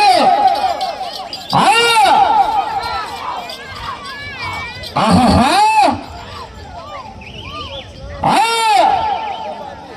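A crowd shouts and cheers at a rural animal competition in surging bursts, three loud swells over a commentator's amplified voice that talks throughout.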